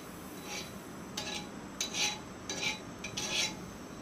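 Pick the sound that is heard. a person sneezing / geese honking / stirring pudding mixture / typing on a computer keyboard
stirring pudding mixture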